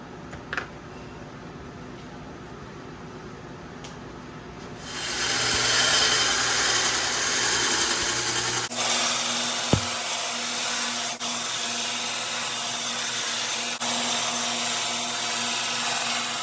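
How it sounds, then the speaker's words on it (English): A bench grinder takes excess steel off a combat tanto knife blank to rough out its profile. A low mechanical hum gives way to a loud, continuous, close grinding roar that holds steady for over ten seconds. "I'm going to go to the grinder and start grinding away the excess material to where I have my good profiled shape"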